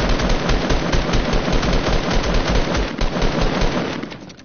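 Rapid automatic gunfire from a video game, a dense continuous burst of loud shots that runs for several seconds before trailing off at the end.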